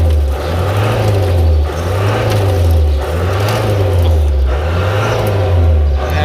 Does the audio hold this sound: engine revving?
yes